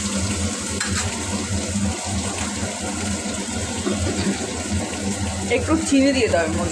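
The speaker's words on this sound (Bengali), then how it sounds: "পেঁয়াজ কুচিটা দিয়ে দিলাম। এবার পেঁয়াজটা একটু ভাজা ভাজা হবে।" Chopped onions fry in a pan with a steady, loud hiss and crackle that runs throughout while a person speaks over it.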